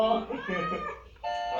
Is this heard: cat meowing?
yes